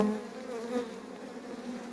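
Honeybees buzz at an open beehive in a close, continuous drone with a steady pitched hum and slight wavering, and no voices.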